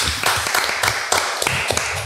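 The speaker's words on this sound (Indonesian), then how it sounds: "Oke, tepuk tangan dulu." Hands clap in a loose, uneven burst of applause from a small group, sharp claps coming close together for about two seconds.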